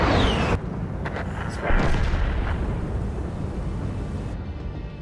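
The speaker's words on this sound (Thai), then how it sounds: "จี้32ยิงด้วยปืนใหญ่ร้อยห้ายิงกราดเลย" A 105 mm tank gun in a tank video game fires with a heavy booming blast, followed by rumbling explosion and battlefield noise that sustains loudly for several seconds.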